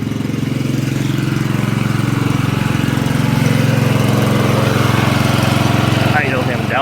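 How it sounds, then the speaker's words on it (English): A farm sprayer's turbocharged engine idles steadily at close range, a continuous low rumble with a faint rising whine near the end. "Idle him down, let that turbo cool off."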